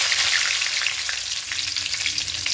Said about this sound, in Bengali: গরম হয়ে গেছে, ফোড়নে দেব 5 ফোড়ন, কয়েকটা তেজপাতা দেব